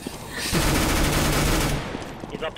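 A rapid burst of automatic gunfire in Counter-Strike: Global Offensive, loud and close, rattling for over a second before fading into a quieter tail.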